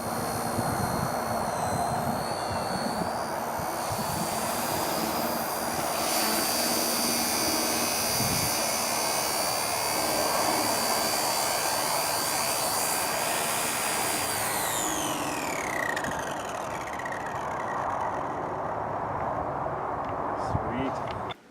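Motor whine and rotor buzz from a small XK K123 AS350 scale RC helicopter flying outdoors, loud and sustained, the pitch shifting as it manoeuvres, then fading near the end.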